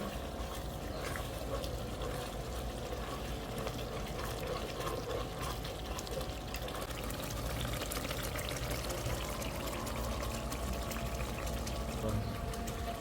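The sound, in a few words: pouring liquid into a cooking pot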